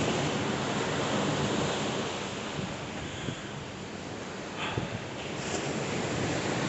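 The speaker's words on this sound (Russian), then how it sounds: "В крещенских водах соленого моря" Salt sea waves wash onto the shore in a continuous broad rushing surge, mixed with wind buffeting, with no voices.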